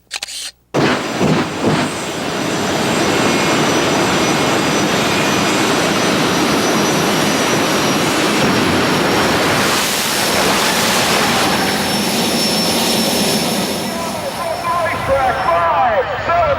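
A jet dragster engine roars loudly and continuously, a harsh rushing blast that swells and then fades slightly as it moves away.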